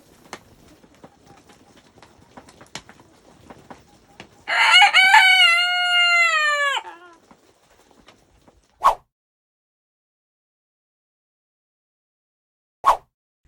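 A six-month-old Silkie rooster crows once from about three feet away, a loud, close, wavering call lasting around two seconds amid quiet clucks and a few sharp clicks.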